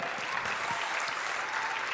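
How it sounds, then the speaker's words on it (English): Audience applause fills a keynote hall at a gaming convention, steady dense clapping from a large crowd throughout, fairly distant. "Give an applause for that."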